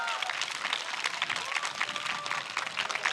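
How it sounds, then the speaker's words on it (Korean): An outdoor crowd at a youth concert on a riverside park stage applauds steadily, a moderately distant wash of clapping and cheering with a voice heard faintly over it. "두 분께 큰 박수 부탁드립니다."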